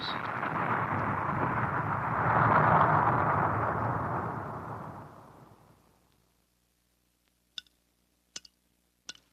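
A firecracker explosion slowed down 1,200 times becomes a long, deep, swelling roar that builds, peaks and fades over about six seconds, followed by a few faint sharp ticks in near silence.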